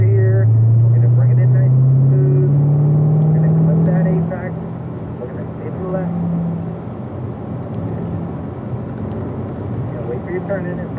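Race car lapping a wet track in the rain, its engine note droning loud and close, rising in pitch before easing off under braking, with steady road and spray noise throughout.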